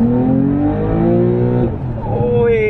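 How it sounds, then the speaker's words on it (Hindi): A 2.2 crore sports car engine revs with rising and falling throttle pitch, loud and close, with a person's voice heard over it. "तो भाई एक बार तो थ्रॉटल साउंड बनता है"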